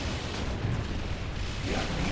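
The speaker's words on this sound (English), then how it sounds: "we're shelling it with our cannons" Cannons shell a Reaver Titan during an Orks versus Imperial Guard battle in Dawn of War: Ultimate Apocalypse, a dense, loud roar of overlapping booms and blasts with continuous rumbling and no clear gaps.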